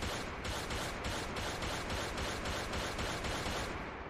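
Rapid gunfire from a video game projectile system, an even stream of sharp shots in a fast steady rhythm, dense and continuous with no pauses or speech.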